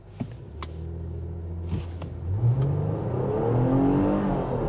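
A 2024 Nissan Pathfinder Rock Creek in sport mode launches from a brake-torque start, engine rising from a steady idle into a swelling rev and building acceleration roar, heard from inside the cabin with a couple of small clicks at first.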